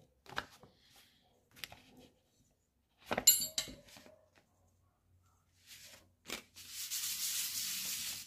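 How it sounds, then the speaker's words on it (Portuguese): Johnson/Evinrude outboard intake reeds being sanded by hand with fine 600-grit sandpaper: a few short, soft rubbing strokes separated by pauses, then a longer continuous scratchy pass near the end, close and quiet. "é uma lixa 600, tá? Granulação."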